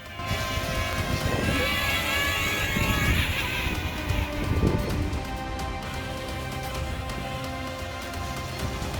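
A DJI Tello drone hovers outdoors at -4°F in cold, gusty wind, its steady high-pitched rotor whine continuous and fairly loud, buffeted by wind rumble on the microphone throughout.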